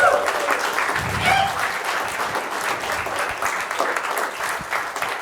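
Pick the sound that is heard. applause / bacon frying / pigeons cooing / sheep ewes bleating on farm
applause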